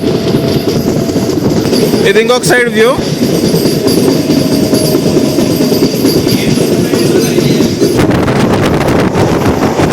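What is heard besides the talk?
MEMU train running, Rajahmundry to Bhimavaram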